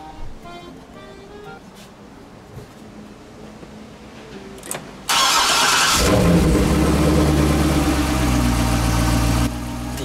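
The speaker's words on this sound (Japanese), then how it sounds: "では、エンジン始動をね、やっていきたいと思います。" A 2011 Chevrolet Corvette C6's starter cranks briefly on a new battery, then the engine catches and roars to life, settling into a steady loud idle that drops slightly near the end.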